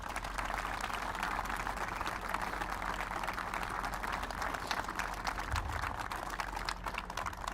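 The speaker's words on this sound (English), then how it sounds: "please give a good round of applause to our junior ROTC" Audience giving a sustained round of applause for junior ROTC cadets at a Wall that Heals memorial ceremony, a dense, even clapping wash heard from within the crowd with no talking.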